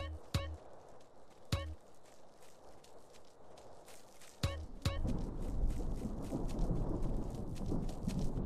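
Steady rain hisses throughout in the video game DayZ, with sharp thunder cracks early on and a heavier, louder downpour swelling in the second half.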